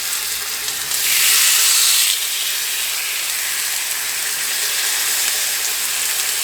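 Pork chops hiss loudly in a hot cast iron skillet with garlic butter, a sharp surge of sizzle as the meat lands, then a steady, close, bright frying hiss continuing alone.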